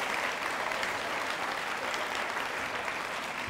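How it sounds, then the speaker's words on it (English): A children's audience at a book award ceremony applauds, a dense, even wash of clapping from many hands that holds steady at moderate loudness throughout. "So please give yourselves a round of applause."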